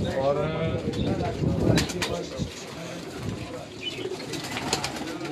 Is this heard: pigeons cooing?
yes